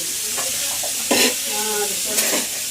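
Chicken frying in a pan, hissing and sizzling steadily while being stirred, with scraping stir strokes rising in bursts over the constant crackle.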